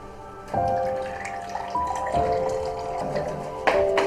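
Tap water running from a faucet to water a plant, a steady splashing flow with shifting pitch as the stream hits the container, close by and alone without talking.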